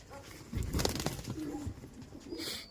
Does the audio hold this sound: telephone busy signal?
no